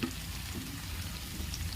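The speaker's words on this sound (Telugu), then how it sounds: "ఒక 2 నిమిషాలు ఆగి ఉల్లిపాయ ముక్కల్ని ఒకసారి కలుపుకోవాలి." Chopped onions fry in a pan with a faint, steady sizzle and soft stirring underneath, brief and quiet with no voices.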